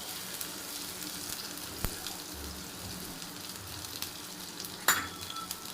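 Crushed ginger, garlic, curry leaves and cumin sizzle quietly in a pan for potato curry, a soft continuous crackle broken by a couple of sharp clicks and spatters.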